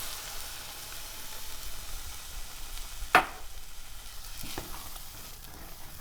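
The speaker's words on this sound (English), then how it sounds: "We're gonna let that simmer for a moment" Red lentil sauce with oat milk bubbling gently in a pan, a soft continuous sizzle and simmer with one sharp utensil clink partway through.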